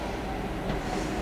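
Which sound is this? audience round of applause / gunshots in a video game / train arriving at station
train arriving at station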